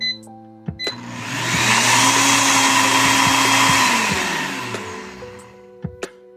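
A Beautiful Power Extract blender runs on its high setting, a loud steady whirring roar that swells up after a few short clicks and winds back down near the end, close by with no talk.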